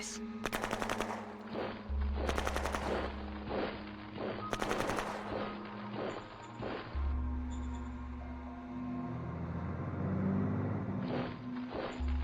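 Video game battle with units firing on the enemy: repeated bursts of rapid machine-gun fire in several volleys, loud and close, trailing off into rumbling engines and scattered shots.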